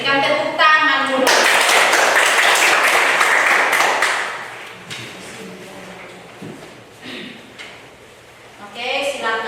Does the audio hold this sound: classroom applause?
yes